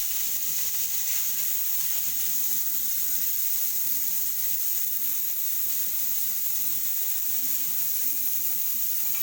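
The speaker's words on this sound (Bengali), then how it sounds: "আর আমি মাছগুলো একে একে সব ভাজা করবো।" Fish fry in mustard oil in a pan with a steady, soft, hissing sizzle that runs on throughout, while a low hum and faint background murmurs sit underneath.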